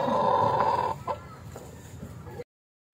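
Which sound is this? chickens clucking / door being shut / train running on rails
chickens clucking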